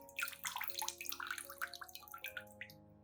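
Clean water is poured over an orchid's growing medium, making a steady close splashing and trickling that runs through the clip, with a faint low hum underneath.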